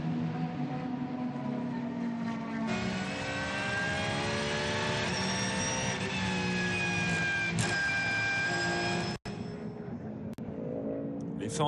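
A Porsche race car engine at high revs during qualifying at the Qatar 1812 km, a sustained whining drone that shifts pitch partway through, with a commentator talking over it.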